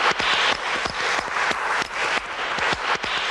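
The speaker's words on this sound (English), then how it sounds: "Let us have a round of applause for that" A studio audience applauding at a comedy talk show, a dense, even wash of many hands clapping that stays loud and steady from start to finish.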